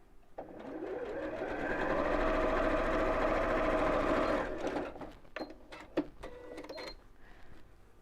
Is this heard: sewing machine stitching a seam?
yes